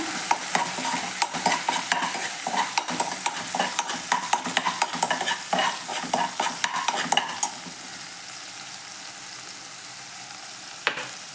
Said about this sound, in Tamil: பட்டர் கொஞ்சம் சேர்த்துட்டு பட்டர் கொஞ்சம் உருகினோடனே